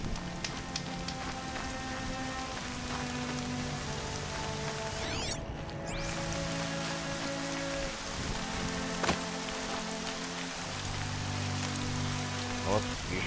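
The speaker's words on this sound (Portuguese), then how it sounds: "Chuva." Rain falls steadily in the video game Horizon Zero Dawn, a dense even patter of drops hitting surfaces. The game's soft tonal ambience and a short swooshing effect sit underneath the rain, which keeps going throughout.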